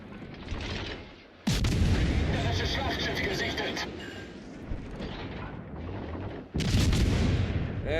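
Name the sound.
naval artillery fire from the video game World of Warships Legends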